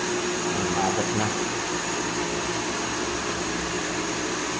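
A vertical pump at a water refilling station runs with a loud, steady whirring drone that holds constant from start to finish.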